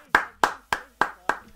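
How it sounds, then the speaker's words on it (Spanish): Five crisp hand claps at an even, unhurried pace, close and clear, with nothing else around them. "Aplausos"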